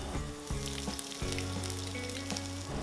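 Chopped garlic and ginger hit hot oil in a pan with a steady, close sizzle and occasional stirring, no voices.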